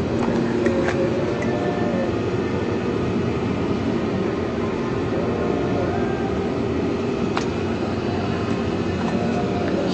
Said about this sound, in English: we're right by the train